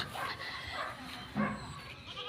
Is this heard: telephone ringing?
no